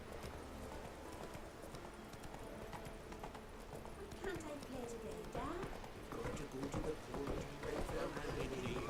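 Roach, Geralt's horse in The Witcher 3, trots with rhythmic clip-clopping hooves throughout, under voices and game ambience.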